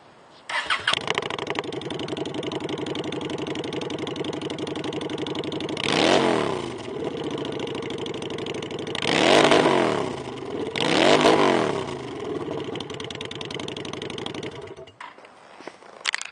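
A used 2013 Honda Shadow 750cc V-twin Phantom cruiser with fuel injection starts up and settles into a loud, steady idle close by, with three rising and falling revs partway through, and no talking.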